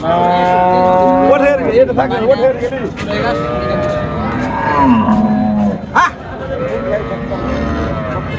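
Cows and calves at a busy cattle market moo in long, loud, drawn-out calls, several overlapping nearby, beneath steady crowd chatter and people talking.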